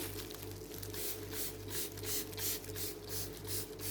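A spray bottle spritzes dye onto seam binding and cheesecloth again and again, each spritz a short hiss repeating at a steady pace over a constant low electrical hum.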